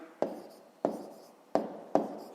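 Four separate pen or pencil strokes land roughly every 0.6 seconds as numbers are written by hand while working a fifth-grade decimal subtraction exercise. The strokes are close and fairly quiet, with no talk over them.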